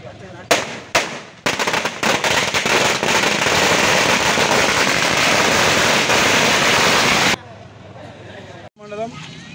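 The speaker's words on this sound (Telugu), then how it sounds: "మండల కాంగ్రెస్ పార్టీ శ్రేణులు టపాసులు కాలుస్తూ సంబరాలు చేసుకున్నారు" Firecrackers bursting at a village celebration by Congress party workers: a few loud sharp bangs, then a long dense crackling barrage of rapid explosions that stops abruptly, followed by a final pop and some voices.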